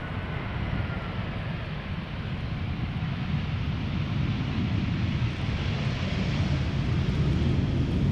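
Airliner on flight 1444 from Paris Charles de Gaulle arriving at Schiphol Airport, a steady, broad jet roar with heavy low rumble and some wind buffeting that holds loud and even throughout, with no talk.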